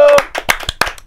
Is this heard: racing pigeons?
no